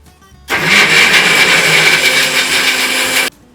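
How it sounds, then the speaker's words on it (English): Blender grinding cashew mayonnaise with lemon roars loudly for about three seconds after a sudden start, then cuts off abruptly into quiet. "So once we grind it, it's gonna make into a nice creamy texture."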